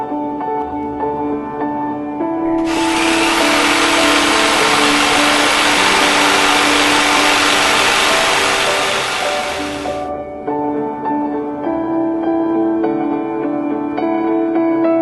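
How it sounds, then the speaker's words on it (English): A power drill driving into wood whirs loudly for several seconds, starting and stopping abruptly, over a quieter steady background hum. "so I'm going to drill them into place"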